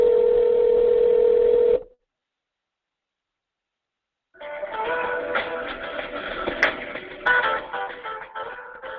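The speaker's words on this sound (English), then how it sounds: "And Dylan, I believe we have a phone call queued up here." Telephone dial tone, a steady tone under two seconds long that cuts off, followed after a pause by a ringing phone line with busy tonal texture, as a queued call is played back.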